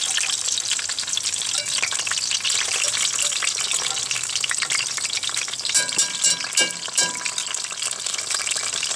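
Chili rellenos fry on an outdoor grill, a continuous crackling sizzle with scattered pops, fairly close and steady, briefly busier toward the end.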